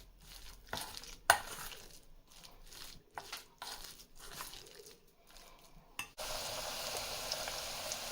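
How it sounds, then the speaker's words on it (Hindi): Bottle gourd pakoras go into hot oil on a low flame to fry, first with quiet clatter and scraping, then settling into a steady soft sizzle during the last couple of seconds. "ये ऑयल गर्म हो चुका था तो इसमें मैंने लौकी के पकोड़े फ्राई करने के लिए डाल दिए हैं।"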